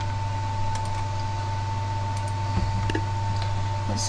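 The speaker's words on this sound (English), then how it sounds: "I'm just typing the name already." Computer keyboard keys tapped in short, irregular clicks, fairly faint over a steady electrical hum, with a couple of sharper taps standing out.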